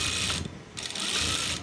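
A sewing machine stitching the side pocket of men's trousers, a close, loud, steady mechanical whir that pauses briefly midway and then resumes.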